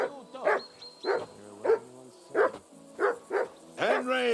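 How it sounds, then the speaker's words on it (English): A dog in the medieval video game Kingdom Come: Deliverance II barks repeatedly, about seven loud close barks in an even rhythm, ending in a drawn-out whining yelp. "Get that mutt of yours to stop barking, will you?"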